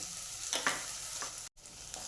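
Fresh coriander sizzling in a hot oil tempering for dal methi, a close, steady crackling fry with a couple of stirring scrapes and a brief cut, no voices.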